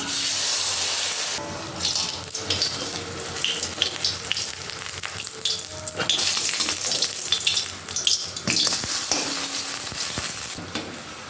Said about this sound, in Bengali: তেল গরম হয়ে গেছে তেলে ছেড়ে দেওয়ার অপেক্ষা